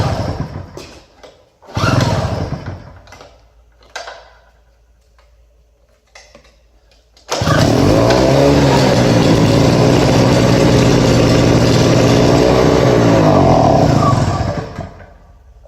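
Small portable generator started with the choke on: a few short pull-start cranks and sputters, then the engine catches and runs loud and steady close by, fading at the end.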